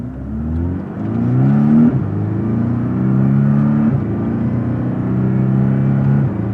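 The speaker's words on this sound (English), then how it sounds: "We'll use the paddle shifters up here and see how those shifts feel in sport mode." A Porsche 718 Cayman with a 7-speed PDK gearbox pulls hard in sport mode, its engine note rising in steady sweeps and dropping sharply at each quick paddle shift, about four upshifts in a row, loud and close.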